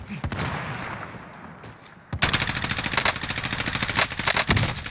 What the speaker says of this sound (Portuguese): Ai, tá de sniper. Ai, nossa senhora, que tiro.